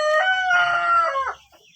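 A rooster crows loudly and close by on a farm where egg-laying hens are kept, one drawn-out call that fades out, followed by soft clucking.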